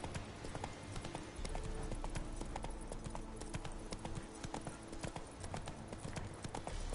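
A horse gallops in The Witcher 3 video game, its hooves beating out a quick, steady clip-clop rhythm. The sound is faint and runs all the way through, with soft background game sound underneath.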